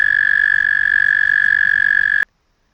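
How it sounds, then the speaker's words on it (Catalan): A toad gives one continuous, loud, high trilling call up close, held steady for about two seconds before cutting off abruptly into silence. "És un gripau que està cantant a les estrelles."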